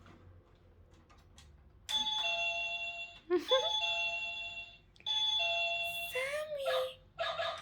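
A toy doorbell chime rings twice, each a sustained ringing tone, with a short laugh and some squeaky warbling sounds in between.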